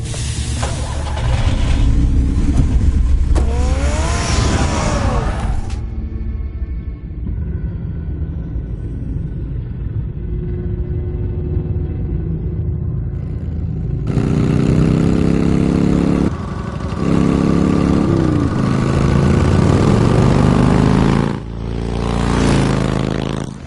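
A car in the Batman Telltale video game rumbles with a low engine idle, then revs and pulls away before fading. Scraping and whooshing effects break up the sound, and the loud engine noise returns near the end.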